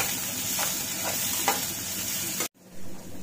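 Chopped onion fries in a pan for an egg drop curry, a steady close sizzle with a few stirring scrapes before the sound cuts off abruptly near the end.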